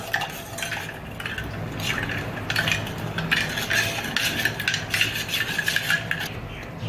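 Fennel, sugar and cardamom powder being stirred together for a cold fennel sherbet, with steady scraping and clinking of a spoon against a bowl, close and continuous with small taps and rubbing.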